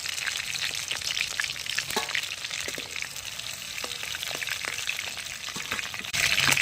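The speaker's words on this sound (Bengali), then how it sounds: "এইভাবে আমি একে একে সব মাংসগুলো ভেজে নেবো" Chicken pieces fry steadily in hot oil for a rural-style chicken biryani, giving a loud, continuous sizzle with crackles and pops that swells louder near the end; nobody speaks.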